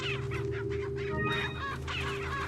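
Chickens clucking in a village in the game Resident Evil 4, a quick run of close, choppy clucks and squawks over a steady low ambient drone, with no talking.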